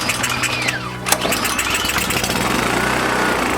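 A small brand-new engine that chokes out and may need a valve job sputters as it starts, then settles into a steady, loud idle close by, with a brief sharp clatter early on.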